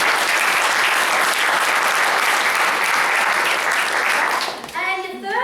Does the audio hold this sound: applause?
yes